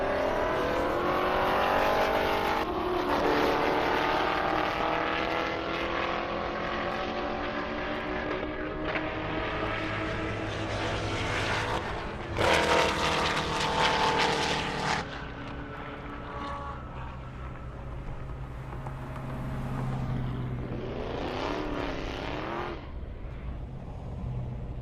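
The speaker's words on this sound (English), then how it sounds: "Jeffrey in the Corvette." Corvettes and other high-powered cars drag racing down a half-mile airport airstrip, with loud, sustained engine roar and rising revs from passing runs, layered and continuous throughout, no talk.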